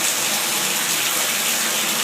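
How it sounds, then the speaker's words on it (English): Water runs from a bathtub tap in a flooded house with a slow-draining tub, a loud, steady gushing hiss that fills the whole clip without a break. "so I'm going to run this tub"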